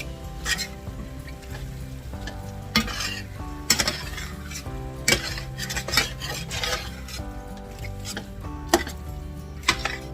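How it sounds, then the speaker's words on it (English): Chili mac with Velveeta cheese being stirred in a hot pot, a continuous scraping and clinking of the spoon against the metal over a steady low sizzle, with regular louder strokes. "he's going to stir it in"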